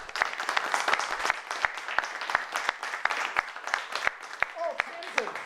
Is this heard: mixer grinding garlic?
no